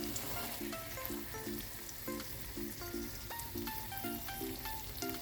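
Egg with shrimp fries in a pan after being flipped, giving a soft, continuous sizzle and crackle heard close, with light background music playing over it and no talking.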